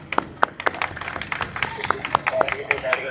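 Scattered claps from an audience at a traffic police road safety awareness event, irregular and uneven, with some voices nearby.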